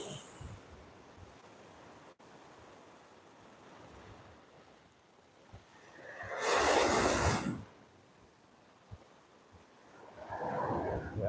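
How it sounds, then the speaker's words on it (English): Waves on a Sanibel Island beach break against the shore, stirring loose shells. A soft steady wash rises into a loud hissing surge, then another wave swells near the end. "Every time the wave crashes, it rustles shells around."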